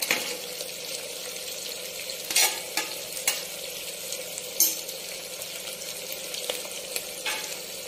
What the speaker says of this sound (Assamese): ইয়া আদা নহৰু পেষ্ট দিলো